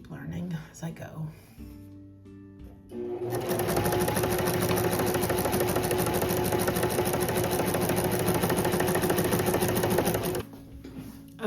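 Sewing machine stitching a blazer, running in a loud steady whir for several seconds after brief handling noise and stopping near the end.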